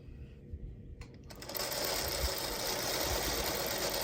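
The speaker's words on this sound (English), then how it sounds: "I'm going to pick up this stem and sew it to one side." A sewing machine stitches a quilt block seam, starting after a short quiet lead-in and then running steadily and close, a continuous whirring buzz with no voices.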